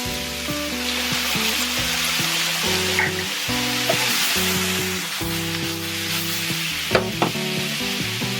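Caponata with sugar and balsamic vinegar sizzles steadily in a pan, a bright continuous crackle under a low tonal hum, with occasional stirring scrapes and a clink near the end; nobody talks.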